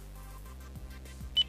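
A car's hands-free Bluetooth phone system gives one short, clear electronic beep at the end, over a steady low engine or cabin hum.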